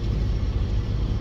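Cabin rumble inside a moving car in Rhode Island, a steady low-pitched road and engine drone that is close and continuous, with no talking.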